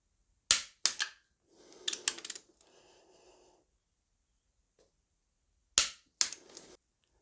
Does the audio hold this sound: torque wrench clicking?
yes